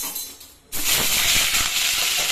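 A hilsa fish head drops into hot oil in a kadai, setting off a sudden loud, steady sizzle and hiss that continues without pause.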